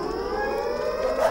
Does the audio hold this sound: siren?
yes